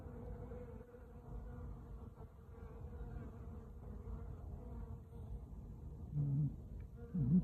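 Honeybees fly around a hive in winter, a faint, steady buzzing drone that continues throughout and swells slightly near the end.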